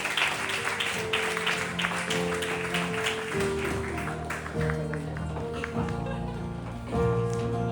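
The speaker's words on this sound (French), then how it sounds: "On peut encore les applaudir." Church congregation at a baptism celebration clapping steadily for the newly baptized, with sustained keyboard or organ chords and voices running underneath the applause.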